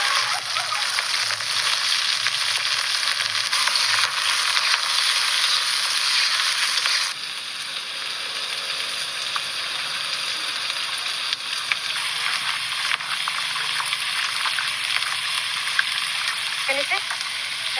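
Onion frying in a karai with meat, bay leaves and cumin makes a strong, continuous sizzle with occasional stirring scrapes; the frying drops to a slightly softer but steady hiss partway through.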